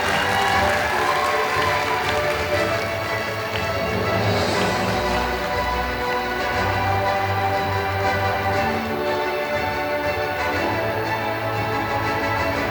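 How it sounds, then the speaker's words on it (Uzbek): An audience at an International Students Day celebration gives sustained applause, with many hands clapping steadily and crowd noise mixed in, continuing evenly from start to finish. "Davomiy qarsak chalib tursanglar yarashadi sizlarga."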